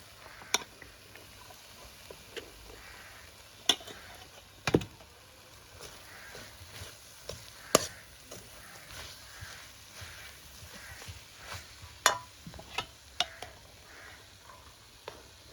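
Cooked rice being stirred into tomato masala in a pan, giving soft scattered knocks and scrapes of a spoon against the pan at an irregular pace, fairly quiet and close, with no talking.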